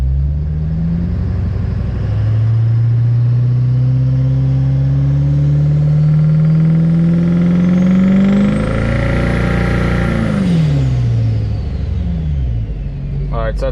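A deep LMM diesel pickup truck engine fitted with a nitrous spool jet revs up steadily in tow/haul mode and second gear, its pitch climbing with a rising turbo whistle before easing off, loud and close.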